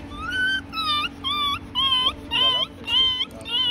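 Puppy with bad mange whimpering in a series of about seven short, high, whining yelps at an even rhythm, close by over a faint background hum.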